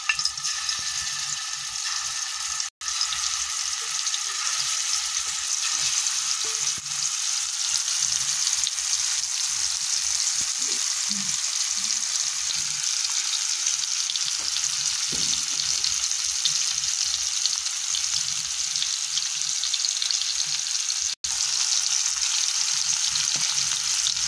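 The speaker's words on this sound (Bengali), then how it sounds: "তো তেলটা গরম হয়ে গেছে, এখন মাছগুলো দিয়ে দিতেছে আম্মু।" Salted hilsa fish pieces frying in hot oil in a wok, a loud, continuous bright sizzle that holds steady for about twenty-four seconds with two brief dropouts.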